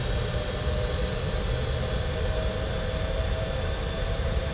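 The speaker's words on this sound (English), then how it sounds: "So we are spooling up the engines." Simulated Boeing 747-400F jet engines spooling up for takeoff in the Prepar3D flight simulator, a steady, loud broadband roar with a rumbling low end that holds constant throughout, with no voices.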